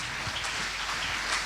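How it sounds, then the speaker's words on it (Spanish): Congregation applauding during a church vigil service, a dense, steady wash of clapping filling the room at moderate level without pause. "Denle un aplauso al Rey, que vive para siempre."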